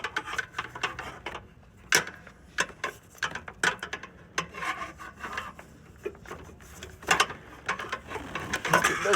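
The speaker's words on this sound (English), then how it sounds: "I'm going to see if I can reach in from the back and grab this belt and go ahead and walk it around the crankshaft." Rattling, clicking and rubbing from hands working a serpentine belt around the crankshaft pulley of a Toyota RAV4, irregular close mechanical scrapes and taps in a quiet engine bay.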